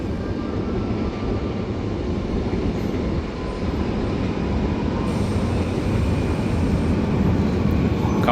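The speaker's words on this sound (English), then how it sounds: "arriving in now is another double-decker train" A double-decker train pulls into Lisbon Oriente station, a steady loud rumble of wheels and running gear that holds throughout, with no talk over it.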